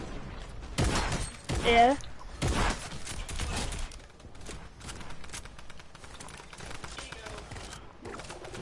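Rapid bursts of gunfire from a drum gun in a video game crackle near and loud in short volleys, mixed with mechanical clatter and a brief spoken word.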